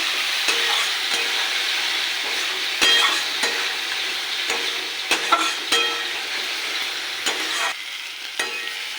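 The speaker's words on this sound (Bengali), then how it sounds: "মশলাটাকে কষিয়ে নেব।" A spice masala of ginger, green chilli, tomato paste, salt, turmeric, chilli and coriander powder is stir-fried in a pan, with a constant close sizzle and repeated spatula scrapes at an irregular pace; no voices.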